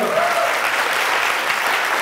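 A crowd applauds steadily throughout at a talk show, a dense wash of clapping with no voices standing out.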